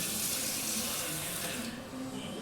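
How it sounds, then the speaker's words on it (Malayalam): Water pouring for making tea, a steady rushing stream close by that thins and softens toward the end, with no talk over it. "നമ്മൾ വെള്ളം ഒഴിക്കണം"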